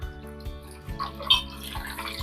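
Water poured from a glass into mashed tomato pulp while making tomato soup, a soft trickle and splash heard over a steady background hum.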